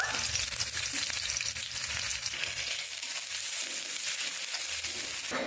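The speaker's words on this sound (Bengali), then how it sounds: "প্রথমে আমি পেঁয়াজ দিয়ে দেব পেঁয়াজটা যেহেতু কাঁচা সেহেতু হালকা একটু আগে পেঁয়াজটা ভেজে নেব" Onions sizzle steadily as they fry in white cooking oil, a continuous close crackling hiss with no talk over it.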